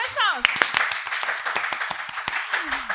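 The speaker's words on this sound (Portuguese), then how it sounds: "Mais palmas." Quick, sharp hand claps from a few people in a podcast studio patter steadily for a few seconds, with a voice briefly heard at the start and again near the end.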